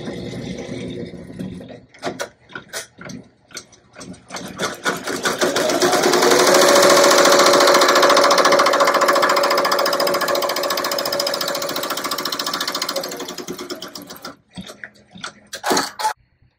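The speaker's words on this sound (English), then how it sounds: "it can just keep stitching everything through" A Marquee 2001 embroidery machine stitches a glitter HTV applique, a dense mechanical chatter that ramps up to a steady fast whir for several seconds before slowing, with clicks and thumps at the start and end.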